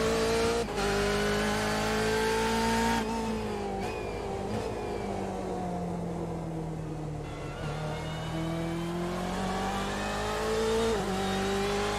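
Race car engines roar and rev continuously in a sportscar racing video game at Spa, a Corvette among them, pitch rising and falling as they accelerate through gears, loud and close with no talking.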